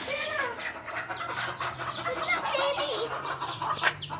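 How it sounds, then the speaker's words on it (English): Chickens cluck and chatter in a farm market animal area, a busy, continuous flock sound at moderate distance with faint background voices. "There's chickens."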